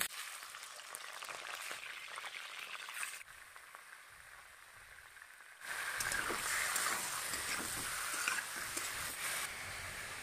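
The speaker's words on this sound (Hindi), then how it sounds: "उधर मछली फ्राई हो रही है" Mangur fish fries in hot mustard oil with a steady, close crackling sizzle throughout. It dips quieter for a few seconds midway, then surges louder and denser.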